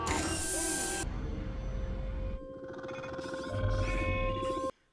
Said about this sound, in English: I hate the sound that robot makes. It sounds like a velociraptor or something